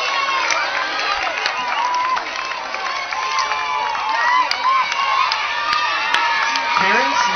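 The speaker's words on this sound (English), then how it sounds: "How about a big round of applause for all of our" A crowd of children and parents cheers, whoops and claps at a school Character Counts awards ceremony, a steady, dense wall of noise that stays loud throughout, with shouts rising above it.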